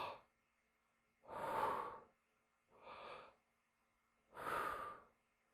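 Three deep, slow breaths taken in with the belly pushed out, each a soft airy whoosh separated by quiet pauses, close and alone.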